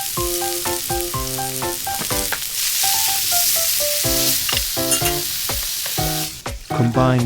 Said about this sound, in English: shrimp and cook until they turn pink